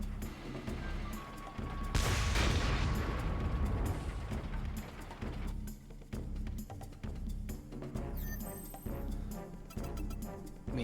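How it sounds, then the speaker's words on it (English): A helicopter fires on a hideout in Front Mission 4, sending dense rumbling bursts of gunfire and crashing impacts that swell loudly, then continue in choppier repeated volleys near the listener. "Continues to fire on the hideout."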